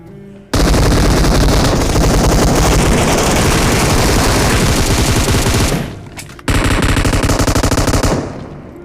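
An M249 machine gun fires long, loud, continuous bursts in a video game, a rapid stream of shots with one short pause before firing resumes.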